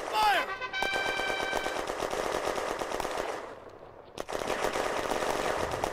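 Sustained machine-gun fire and rifle shots rattle through a WWII video game firefight set in June 1940 France, loud and close. A burst of fire dips briefly before heavy shooting resumes, with a shouted voice near the start.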